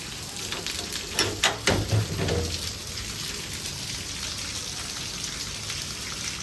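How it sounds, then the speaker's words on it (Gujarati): Heavy rain falls in a steady, dense hiss throughout, with a few louder thumps and knocks clustered near the start. "અને જુઓ વરસાદ"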